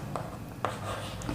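Marker or chalk writing on a board during a geometry lesson, several short scratchy strokes at close range in a quiet room, no voice over them.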